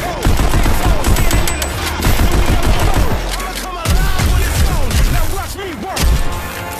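Rapid gunfire from the VR shooter game Pistol Whip, with loud bursts of shots layered over a driving music track that continues throughout.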